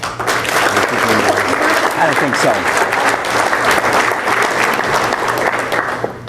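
An audience at a Mukilteo Chamber gathering applauds to welcome a speaker, a dense, loud round of clapping held steady throughout with a brief voice heard over it.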